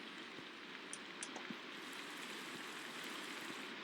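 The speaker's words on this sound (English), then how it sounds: "Still raining." Steady rain falls in the Minecraft video game, a continuous soft patter and hiss with a few sharper droplet ticks scattered through it.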